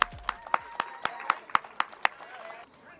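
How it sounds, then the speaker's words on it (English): A small outdoor crowd at a Voices Against Violence 5K walk and run gives a sparse round of applause: a few distinct claps in a regular rhythm that taper off after a couple of seconds. "Give yourselves a huge round of applause"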